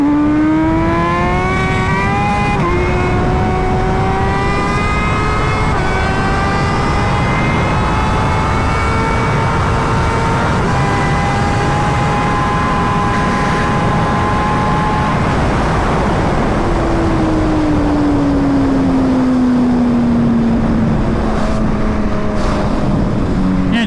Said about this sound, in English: Just simply cannot deny that this is one of the best sounding motorcycles ever.